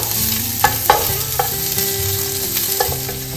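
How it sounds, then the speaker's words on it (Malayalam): Garlic and green chilies sauté with prawns in a pan for prawn biriyani. A continuous loud sizzle runs throughout, with a few sharp clinks as the mixture is stirred. "ഒരു 3-4 പച്ചമുളക് ഇത്രയും കൂടി ഇട്ടൊന്ന് വഴറ്റാം."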